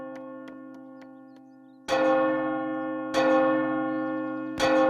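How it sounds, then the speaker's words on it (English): A large firehouse bell in a children's cartoon rings out three times at slow, even intervals, each strike ringing and slowly fading, preceded by fainter lighter chimes. "When the firehouse bell rang across the countryside, the volunteer firefighters responded."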